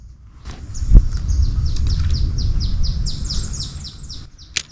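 Birds chirp in a quick repeated series of high trills against a soft rustling background in a Thai jungle on Phuket, with a couple of sharp clicks.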